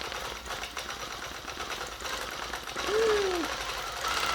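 A sewing machine quilting fabric over trapunto batting, a steady close mechanical hum of rapid needle strokes that swells slightly toward the end, with a brief faint tone partway through.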